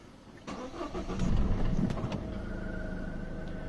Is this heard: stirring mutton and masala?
no